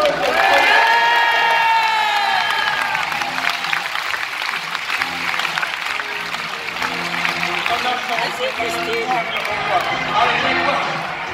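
Audience at a conference show claps and cheers in a steady, dense wash that carries through the whole stretch, with a voice calling out over it at the start.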